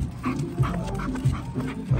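A strong dog close by pants rhythmically and lets out short whimpers and yips at a dog park, with the breathing repeating in steady bursts and no talk over it.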